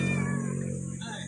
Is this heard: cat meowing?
yes